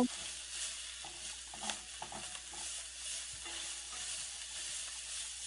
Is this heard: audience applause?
no